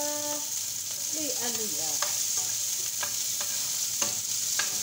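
Mussels cooking in a pan, stirred with a utensil that clinks and scrapes against the metal over a steady sizzle, with a brief voice near the start.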